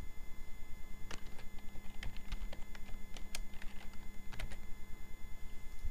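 Rapid keystrokes on a computer keyboard as a folder name is typed, a quick uneven run of light clicks close up over a low steady hum.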